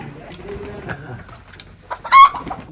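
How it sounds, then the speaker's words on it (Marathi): A fighter rooster and hens cluck and coo close by, ending with a short burst of loud wing flapping as a bird takes off. "तो उडाला बघा कसा फायटर कोंबडा दिला का तुम्हाला कोंबडी पण उडाली"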